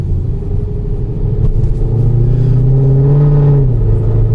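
A 2012 Mercedes-Benz C63 AMG with a transmission fault drives along, its engine giving a loud, steady low rumble with harmonics that rise as it pulls, close and continuous without talk.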